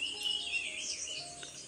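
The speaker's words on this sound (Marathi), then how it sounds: "ते पक्ष्यांचा आवाज येतोय बघ" Birds call outdoors in a steady, faint chorus of high chirps that runs through the whole stretch, with a soft insect-like hiss underneath and no talk.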